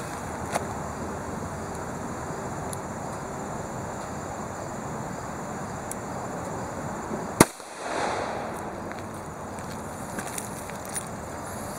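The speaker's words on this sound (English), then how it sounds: "let's take a look here at the Ballistics gel block shot" A Hornady Critical Defense .38 Special 110-grain round is fired into a clear ballistics gel block outdoors, one sharp loud report partway through over steady wind and background noise, with no talking.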